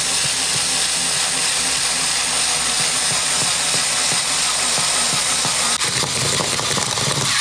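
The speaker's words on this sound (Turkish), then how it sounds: "Şimdi gelin isterseniz en büyük çivimizi tahtanın üzerine deneyelim." A Ferm CDM1132 cordless drill drives a large screw into a wooden board, giving a loud, continuous, strained motor whir with gritty, rattling texture throughout.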